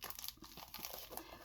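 A single sheet of thrifted paper is handled close by, crinkling and rustling in quick, uneven bursts with no talk over it.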